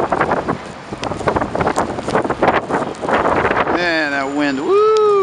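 Strong wind during a snowstorm buffets the microphone in loud, gusty bursts, followed by a rising and falling mechanical whine, likely from a struggling articulated bus, with a voice exclaiming over the noise.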